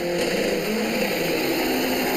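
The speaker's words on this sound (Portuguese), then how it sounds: "O ronco do motor." A drag racing car engine roars loudly and continuously at a street drag race in Outeiro, Belém, with a dense close buzzing growl and no speech.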